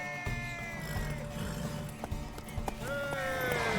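Horse hooves galloping in The Witcher 3, a fast run of clip-clop beats under a droning game soundtrack, with a tonal whinny-like cry near the end and a voice speaking over part of it.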